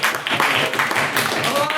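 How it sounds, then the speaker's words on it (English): Brief round of applause from an audience at a formal debate in a parliamentary chamber, a steady dense patter of many hands clapping close by for under two seconds, with a murmur of voices underneath. "So just a brief round of applause for them."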